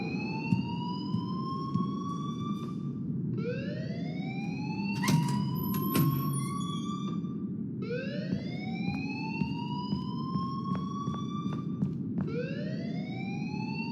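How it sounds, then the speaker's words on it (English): Alarm ringing in the Life is Strange video game, a rising electronic whoop repeating about every four seconds over a steady low rumble, loud and continuous, with a brief sharp clatter midway and no talking. "please turn off that alarm since that's your job"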